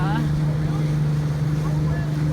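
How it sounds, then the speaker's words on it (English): A steady motorboat engine drones at a distance on the Florida Intracoastal Waterway, with a constant low hum and faint wash of water and wind, no talking. "There's some guy over here water skiing, and there's like boats all over the place."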